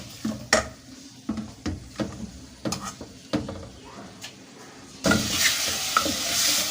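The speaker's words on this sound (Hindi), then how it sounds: "हाफ टी स्पून लहसुन अदरक, और अब मैं इसे अच्छी तरह से भून लूँगी" Garlic-ginger paste sizzling in a pan while a spatula scrapes and stirs it in short, repeated strokes. After a few seconds the frying turns into a louder, steady hiss.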